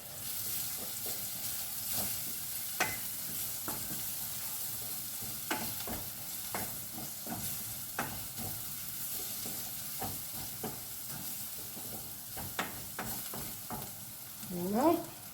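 Ingredients for a Thai shrimp soup sizzle and fry steadily in a pan, with a spoon scraping and stirring in irregular strokes throughout, close and moderately quiet.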